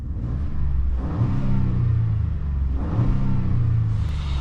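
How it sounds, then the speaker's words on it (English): A 2026 Ford F-150 with a turbocharged EcoBoost V6 revs in sport mode, two rising surges of engine roar with a brief dip between, loud and close. "let us put it into sport mode and give this thing a little rev test"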